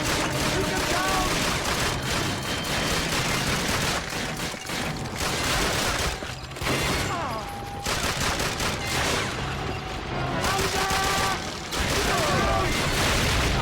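Dense gunfire from a World War II battle in Call of Duty: Finest Hour, with near-continuous volleys, shots and booms that keep going for the whole stretch, briefly thinning now and then, while game voices and music play underneath.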